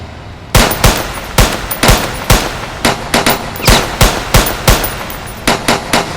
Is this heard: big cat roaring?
no